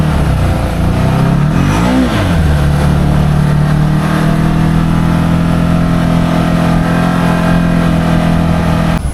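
A Can-Am Maverick Sport XMR UTV on 35-inch Aztexs tires riding a trail: loud, close engine drone with a rising and falling rev near the start, then settling into a steady cruising hum with rumbling tire noise.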